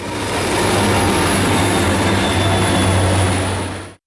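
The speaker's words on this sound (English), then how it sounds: "The locomotive pulling that train is a General Electric Dash 8" A CSX freight train hauled by a 1993 General Electric Dash 8 locomotive runs near Howell's Yard with a loud, continuous rumble and roar, then cuts off abruptly.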